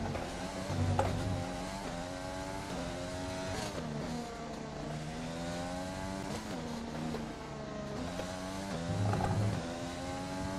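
A Formula 1 car engine in the F1 2020 racing game during a practice session at the Hungarian circuit, droning steadily at high revs with rising and falling gear sweeps, loud and continuous without talk.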